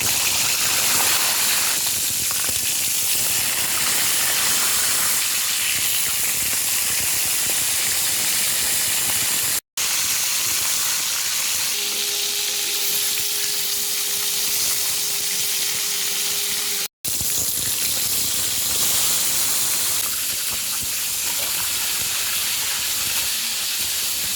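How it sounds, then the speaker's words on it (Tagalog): Kanduli catfish frying in a pan in a home kitchen, a steady loud sizzle and hiss of hot oil running throughout with two brief dropouts, with no talking. "ipiprito po muna natin yung ating kanduli"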